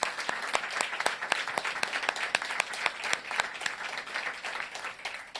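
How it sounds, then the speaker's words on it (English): Sustained applause from an audience at an outdoor groundbreaking ceremony for short-term family housing, dense steady clapping that holds evenly throughout, fairly close and without any voices on top. "let's give everybody who was a part of this a round of applause"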